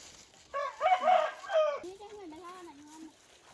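A rooster crows with a long wavering call and chickens cluck close by in a Hmong hill village, with a person speaking briefly over the birds.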